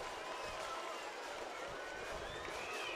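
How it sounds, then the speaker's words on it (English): Crowd noise at a Bend Elks vs Portland Pickles baseball game: a steady, broad wash of distant cheering and murmur that holds at one level without clear peaks. "you can hear this crowd cheering for cheap beer"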